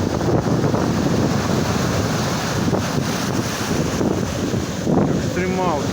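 Wind gusts buffet the microphone over steady ocean surf at the shore, a loud continuous roar of breaking waves and wind with faint voices in the background.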